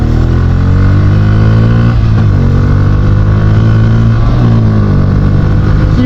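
A Bajaj Pulsar N160 motorcycle engine revs loud and close, holding a steady throbbing drone with its pitch dipping and rising twice as the throttle is blipped, with no talk over it.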